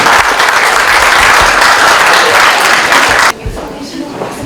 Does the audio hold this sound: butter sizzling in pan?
no